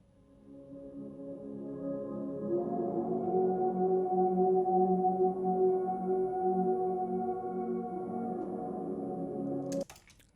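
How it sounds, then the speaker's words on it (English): A bass guitar run through many effects pedals makes a dreamy synth-like pad called the Moonbeam synth. It holds sustained layered tones that swell after a soft start, stay steady for several seconds, then cut off abruptly near the end. "it was actually a bass guitar played through lots of pedals"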